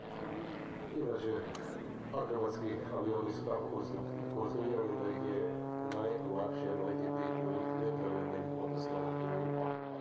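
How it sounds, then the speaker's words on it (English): Propeller drone of an MX-2 aerobatic aircraft at a Croatian airshow in Varazdin, holding a steady tonal hum with shifting pitch, heard under a narrator's voice. "Hungarian aerobatics legend Veres Zoltan with his MX-2 aircraft"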